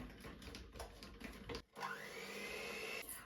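An electric mixer whips 36% fat cream with cream cheese in a kitchen, its motor a steady whir that drops out briefly and then resumes at a higher pitch.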